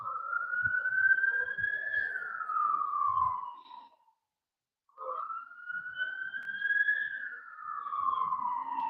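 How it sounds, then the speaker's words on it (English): Wailing emergency sirens rise and fall in two long sweeps with a short silent gap between, fairly loud, with faint background rumble underneath. "you guys probably can hear the sirens in the background"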